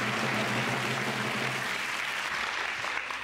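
Studio audience applause at a Taiwanese variety music show, dense steady clapping close up that fills the whole moment and tapers slightly at the end.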